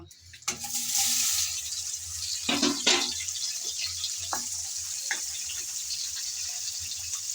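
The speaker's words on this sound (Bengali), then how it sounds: "নুন হলুদ মাখা চিংড়িগুলো আমি তেলে এখন ফ্রাই করে নেব" Shrimp coated in salt and turmeric hit hot oil in a sudden loud sizzling burst that eases into a steady fry, broken by a few utensil clatters and scrapes.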